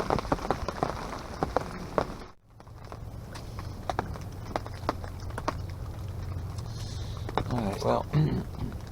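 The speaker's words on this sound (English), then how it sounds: "still raining." Steady rain falls outdoors during a gun-season deer hunt, a continuous soft patter with scattered sharper drops close by, and a brief dip in the sound partway through before the rain resumes.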